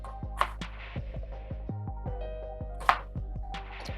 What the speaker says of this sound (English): You're cutting them like this because you want it to cook faster